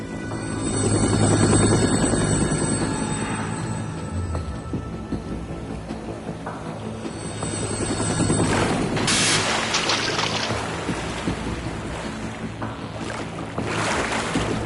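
In the video game Metal Gear Solid 2, a helicopter drones steadily with a low rotor rumble and engine whine, continuous and fairly loud throughout, with no speech.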